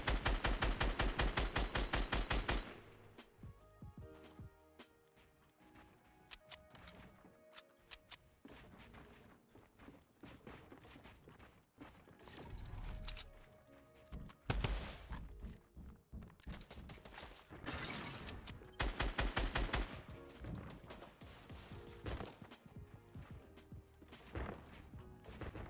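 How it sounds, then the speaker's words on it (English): Rapid automatic gunfire from a Fortnite drum gun and P90 SMG crackles in bursts across a busy game soundscape, with dense rattling stretches separated by quieter gaps and scattered impacts. "the drum gun and the P90 SMG were crazy"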